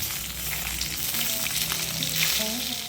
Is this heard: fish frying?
yes